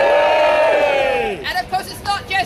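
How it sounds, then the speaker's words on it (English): A large outdoor crowd roars and whoops together in one sustained loud cheer, then breaks into scattered shouts and trailing calls. "I think everyone should give themselves a cheer."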